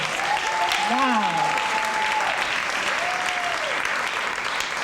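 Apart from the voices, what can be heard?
audience applause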